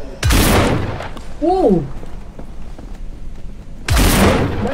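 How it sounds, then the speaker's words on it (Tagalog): Gunfire in the video game No More Room in Hell: two loud, broad blasts roughly three and a half seconds apart, each ringing out briefly, with a player's short exclamation between them. "Maingay yung baril."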